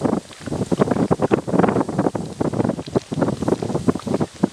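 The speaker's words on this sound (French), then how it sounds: "fin octobre avec des rafales de vent à 60 km/h" Blustery late-October wind, gusting to about 60 km/h, buffets the microphone in rough, uneven gusts, with low rumbling bursts rising and falling throughout.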